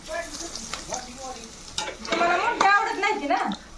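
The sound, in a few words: fish frying in oil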